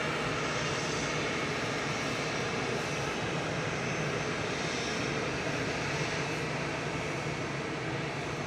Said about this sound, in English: Ryanair's lining up to go next to Dublin with flight 555, 737-800